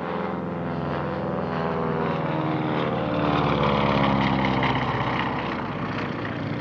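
A vintage DC-3 propeller airliner, originally a C-47A-45DL, flies past at a warbird airshow, its radial engines producing a steady, loud droning roar that swells slightly mid-pass and holds throughout.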